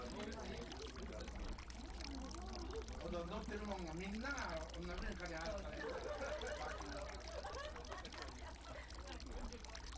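Water flows quietly into a basin filled to the brim beside a dining room in a Japanese satoyama home, a soft continuous pouring trickle under a narrator's voice.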